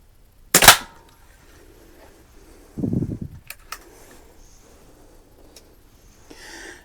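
A Crosman 140 .22 pellet rifle fires indoors at a can 7 yards away, producing one sharp loud crack followed a few seconds later by a short duller thud and faint clicks.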